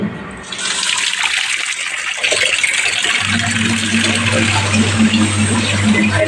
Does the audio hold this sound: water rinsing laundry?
yes